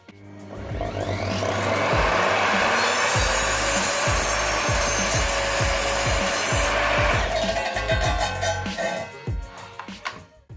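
An EVOLUTION R255SMS sliding miter saw cutting through a clamped wooden plank; the loud motor whine rises as the blade spins up, a rough rasping cut follows, then the whine winds down with rattling.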